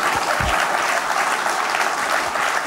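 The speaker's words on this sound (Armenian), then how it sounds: "եկեք ծափարենք Պոնչին։" A television comedy league final audience applauds, a dense continuous burst of many hands clapping filling the room with no speech over it.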